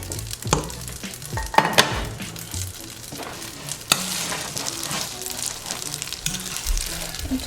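Green spaghetti sizzles softly in a pan on low heat while being stirred, with scraping and clattering stirring strokes and a few sharper knocks over a steady frying hiss, heard close up.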